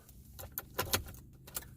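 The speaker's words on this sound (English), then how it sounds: "put the keys in the ignition" Keys jangle and clink as they go into the ignition of a 2019 Ford F650 truck, a quick run of close metallic rattles and taps with no talking.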